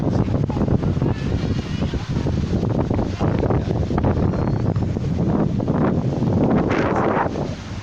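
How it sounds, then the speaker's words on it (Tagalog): Strong wind on a Philippine beach roars and buffets the microphone continuously, a loud, rough rushing with gusts swelling and easing throughout. "Hangin kaayo."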